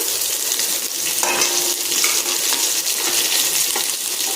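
Two large onions tipped into hot oil with sautéed spices for paneer masala, sizzling loudly and steadily in a dense continuous hiss with faint stirring scrapes and no voices.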